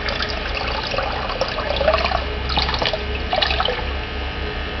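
A submersible pump circulates ice water out of a cooler box and back, giving a steady splashing trickle with drips and small gurgling surges, close and fairly loud.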